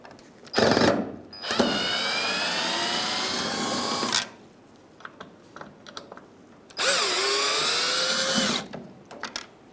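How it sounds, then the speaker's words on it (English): A cordless power drill spins out Phillips screws from the bed side of a 1996 Ford F-150, two long whirring bursts of rising pitch close by, separated by a pause filled with light clicks and handling. "along our bed side, we'll see two Phillips screws. We'll remove those."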